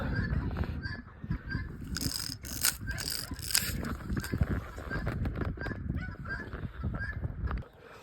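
A turkey gobbles repeatedly in short, rattling bursts over a busy background of shuffling and clatter, fairly close by.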